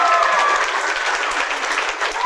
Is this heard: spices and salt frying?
no